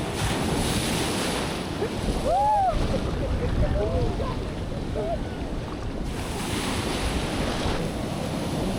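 Big ocean waves roll and break on a beach at Gopalpur, Odisha, as a constant loud wash of surf mixed with heavy wind buffeting the microphone, while people talk faintly underneath.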